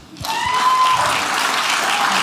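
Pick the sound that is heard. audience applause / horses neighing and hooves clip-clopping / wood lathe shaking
audience applause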